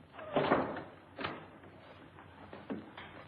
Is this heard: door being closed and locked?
yes